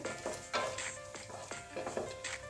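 Cashew and almond pieces roasting in ghee for a date kheer, with a steady soft sizzle broken by repeated spoon scrapes and light clinks against the pan, close and continuous.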